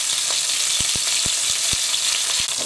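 Lamb shanks frying in a pan, a steady, close hiss of sizzling fat with a few soft knocks and taps from the pan or utensil, no talking.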